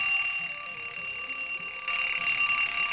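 An alarm clock rings continuously and loudly, a dense metallic bell-like chime held without a pause, growing slightly louder partway through, with no voices over it.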